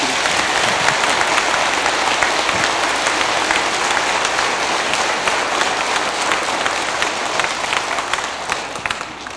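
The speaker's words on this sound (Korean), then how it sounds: "우리 오늘 성가대원들한테 좀 박수 한번 다시 부탁드립니다" A church congregation applauds the choir at an Easter Vigil Mass, with steady, dense clapping that fills the room at an even loudness from start to finish.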